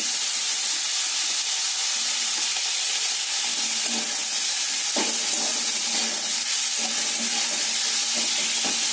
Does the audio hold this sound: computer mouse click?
no